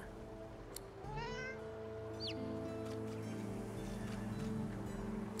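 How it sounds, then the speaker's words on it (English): A cat meows twice in Divinity: Original Sin II, giving short drawn-out calls over a steady low ambient hum. "The cat looks up at you and gives you a groggy meow in thanks."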